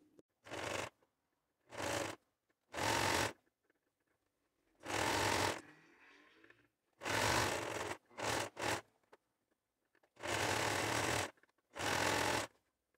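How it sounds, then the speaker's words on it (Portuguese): Sewing machine running a straight finishing stitch on a garment, in eight short bursts of rapid mechanical chatter separated by quiet pauses, close and clear with no talking. "Eu vou passar o ponto reto para ficar mais bonitinho, para ficar com um acabamento mais perfeito."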